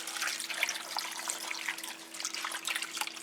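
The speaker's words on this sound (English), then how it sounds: "And then I'm going to put water in this to cover." Water pours steadily into a slow cooker over corned beef and carrots, a continuous close splashing and trickling with no talk.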